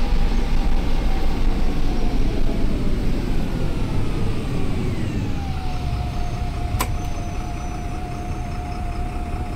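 A Jelcz 120M city bus's diesel engine in the OMSI 2 driving simulator: a loud, continuous close rumble with droning harmonics that sweep downward as revs fall, then settle into a steady whine, with no voices.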